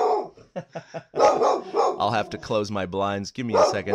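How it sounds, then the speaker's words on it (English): Dog barking in a room, several sharp barks and yips mixed with a person talking over them, close and fairly loud. "sorry about my dog."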